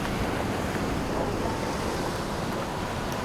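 Sea waves crash against big rocks on the shore at Kanyakumari, a steady, loud broadband roar of surf that runs unbroken throughout, with some wind buffeting mixed in.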